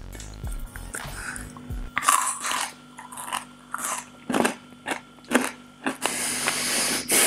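Someone bites into a crunchy homemade vegan Kit Kat ball of dark chocolate and chickpeas, then chews with a series of sharp, close, loud crunches spaced irregularly over several seconds.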